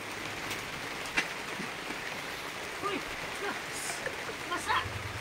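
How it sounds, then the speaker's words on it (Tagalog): Rain falling outside on a rainy morning, a soft, even hiss of steady rainfall heard from a distance, with a few brief knocks and faint voices over it. "Umuulan nga eh"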